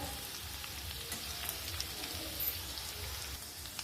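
Ginger and green chilies sauté in oil with a steady, close, rain-like sizzle that crackles evenly throughout, no talking over it.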